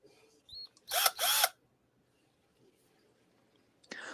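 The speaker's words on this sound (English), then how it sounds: "It's a drill." A power drill gives two short, loud whirring bursts back to back, each lasting about a quarter second, then falls silent. Faint clicks and a brief noise near the end follow in a quiet room.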